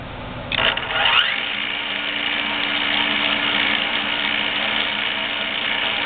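A JET ARBOGA 20-inch drill press runs at speed, a steady close mechanical whir with a tonal motor hum after a brief clunk and shift at the start, no talking.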